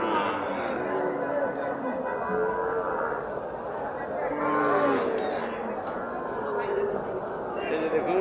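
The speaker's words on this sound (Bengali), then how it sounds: "অনেক সুন্দর সুন্দর সাইজের গরু।" Cattle moo repeatedly at a large open-air cattle market in Joypurhat, with several drawn-out calls rising over a steady crowd murmur and people talking nearby.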